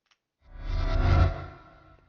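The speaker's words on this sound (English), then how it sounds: "This is a reversed harp string" A reversed harp string sample used in monster roar sound design, a single swelling tone that rises from silence to a reverberant peak, then fades away over about a second and a half.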